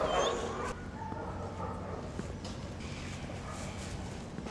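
A small chihuahua at an animal shelter gives faint whimpers and short yips amid quiet kennel ambience, softer after a louder opening moment.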